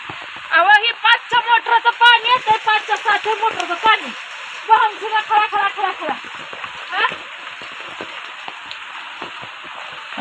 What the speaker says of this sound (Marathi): खरंच पाऊस मोठा आहे बरं का